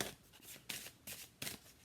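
Tarot cards being shuffled in three or four quick crisp bursts of riffling paper, close and clear, with short quiet gaps between them.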